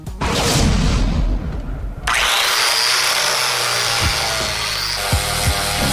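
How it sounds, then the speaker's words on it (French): A power grinder whines loudly against a car's steel gas tank, cutting out briefly and then grinding steadily again, with a few clanks near the end. "meule le réservoir d'essence pour qu'il tombe bien en place"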